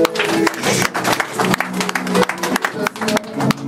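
Church congregation applauding together, a close, irregular clatter of many hands in bursts with short dips, mixed with some voices and tonal sound beneath the clapping.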